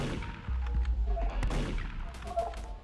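Gunshots fire in a video game, a few sharp reports spaced across a short stretch, fairly close and of moderate loudness over a busy game background.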